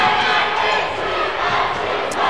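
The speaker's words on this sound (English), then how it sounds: "the crowd's starting to get loud now." A basketball crowd in a gym at a Pinedale vs. Mountain View Buffaloes game swells into a loud, steady roar of cheering and shouting, with a sharp yell near the end.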